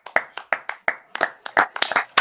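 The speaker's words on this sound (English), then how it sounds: "Let's clap it up now" A few people clapping live on a podcast stream, sharp distinct hand claps in an uneven rhythm, close and clear, with a quicker burst near the end.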